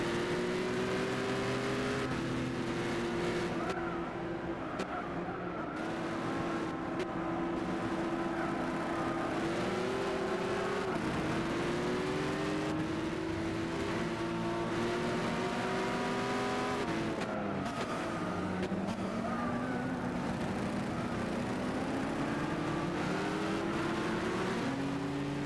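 A race car engine in the Gran Turismo 6 video game drones and revs steadily around a track, pitch climbing and dropping with gear changes and throttle lifts, loud and continuous throughout.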